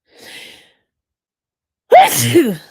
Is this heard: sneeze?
yes